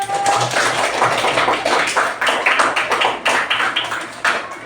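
A burst of many children's hands clapping together in a classroom, dense and fairly loud, continuing unevenly for several seconds.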